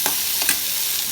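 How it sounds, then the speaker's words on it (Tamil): Potato pieces frying in a little oil give off a steady broadband sizzle with a few soft stirring scrapes, close and fairly loud, with no talking. "இப்போ நம்ம வந்து உருளைக்கிழங்கையும் கொஞ்சமாக எண்ணெய் சேர்த்து பொரிச்சு எடுத்துடுறோம்"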